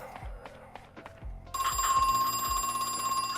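A telephone rings in the video game Crow Country with a bright, sustained electronic trill that starts partway through and continues to the end, after a few soft thuds and footstep-like knocks.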